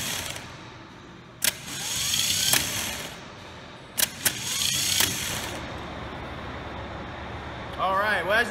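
A car starter motor on a test bench is energised by jumping its solenoid, giving a few brief sharp clicks and short whirring spins separated by pauses, with a voice talking in between.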